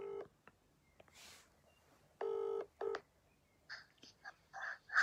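A telephone dials out to call a guest, a sequence of short touch-tone beeps of varying pitch, some held longer, sounding close and clear against a quiet background.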